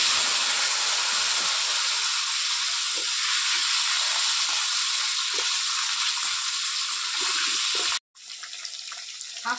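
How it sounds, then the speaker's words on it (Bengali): Cut potatoes fry in leftover fish-frying oil with a constant, close hissing sizzle that briefly cuts out near the end and then resumes. "কেটে রাখা আলুগুলো এবার এই মাছ ভাজার তেলেই আমি কষে নেব।"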